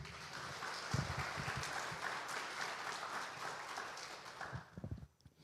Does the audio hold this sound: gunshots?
no